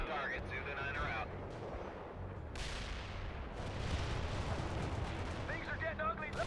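Heavy artillery barrage in World in Conflict: Soviet Assault, with booming impacts and rumbling gunfire rolling continuously through the stretch while a voice calls out briefly over the din.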